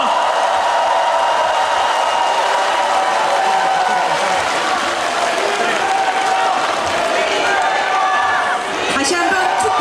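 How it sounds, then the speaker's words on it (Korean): A large crowd at a Korean Democratic Party joint campaign rally in the Chungcheong region applauds loudly for the candidates. The dense, continuous clapping holds for the full stretch, with a few whoops mixed in. "박수 부탁드리겠습니다"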